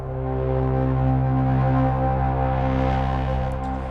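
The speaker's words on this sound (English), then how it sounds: "it also has this kind of industrial grating distortion to it." A sustained low brass note from a cinematic trailer sound library carries a gritty, industrial grating distortion, holding steady and loud for several seconds with a dense, buzzing low end.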